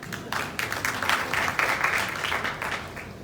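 An audience at an awards night in a hotel ballroom in Accra claps steadily, a dense, lively patter of many hands close by with brief sharper bursts.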